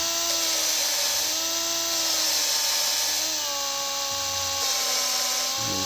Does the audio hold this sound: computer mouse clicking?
no